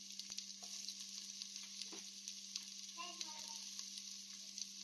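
Sliced onions sautéing in a pan for seeraga samba ghee rice: a faint, bright, steady sizzle with occasional light scrapes and taps of a spatula over a low steady hum.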